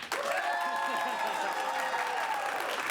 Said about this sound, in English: Clap for both, but louder for the movies that you would like to continue.